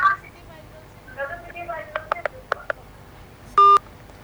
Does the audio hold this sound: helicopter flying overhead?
no